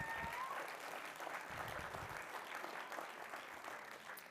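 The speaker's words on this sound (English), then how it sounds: "Big round of applause for Dee for helping me out." Applause from a gala fundraiser audience, steady and moderately distant, sustained for several seconds with no speech over it.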